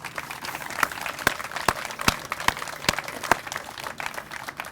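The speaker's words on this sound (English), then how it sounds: "join me in a round of applause for the Gold Star moms." A crowd at an outdoor veterans monument unveiling in Howard County applauds Gold Star mothers, scattered, distinct hand claps over a soft wash of clapping, moderately quiet and without speech.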